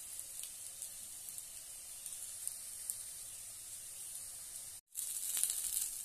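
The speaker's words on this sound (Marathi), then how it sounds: "दोन्ही बाजूने छानपैकी भाजून घेऊया। कमी तेलामध्ये खूप छान होतात ते" Bread snack shallow-frying on both sides in a little oil, giving a steady soft hiss and sizzle throughout, broken by one very brief silent gap.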